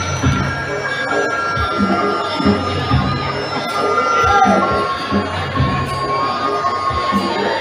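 A crowd at a felicitation ceremony following a legal awareness play claps and cheers in a loud, continuous wash, with children's shouts and a few voices mixed in.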